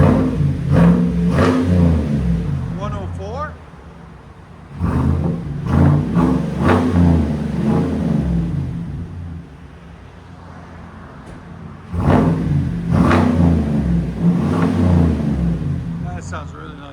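A 2023 Chevy Silverado 2500HD with a 6.6L V8 revs in repeated bursts, each swell rising loud and close then settling back toward idle, with someone talking between and over the revs.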